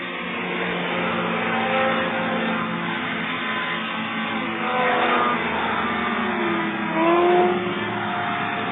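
Racing hovercraft engines, one a 4-stroke, roaring as the craft run up a lake at the Tamworth UK national hovercraft races: a continuous buzzing drone that swells and fades as machines pass at moderate distance.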